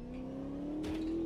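A race car engine in the Automobilista 2 racing simulator holds a steady high-revving drone that climbs slowly in pitch, loud and continuous throughout.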